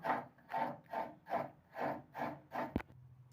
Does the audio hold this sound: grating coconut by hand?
yes